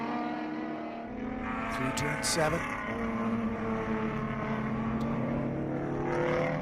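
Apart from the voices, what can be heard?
V6 Mustang race car engine wail climbing a hill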